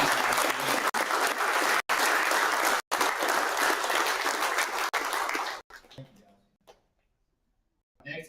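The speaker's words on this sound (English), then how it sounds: "So give your team a round of applause" A crowd at a Bassmaster kayak fishing tournament weigh-in on the Kissimmee Chain, Florida, applauds college fishing teams with a steady wash of clapping that abruptly cuts off and fades to near silence.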